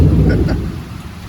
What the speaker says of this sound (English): I shall sit here and hopefully enjoy the rain and not all this lightning